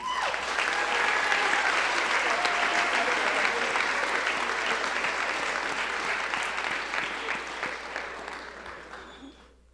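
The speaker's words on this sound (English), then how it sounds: "Let's give another round of applause for our entire 2024 Beanie Royalty." A large audience applauds steadily through a university coronation ceremony crowning campus royalty. The clapping is dense and sustained, then gradually thins and fades near the end.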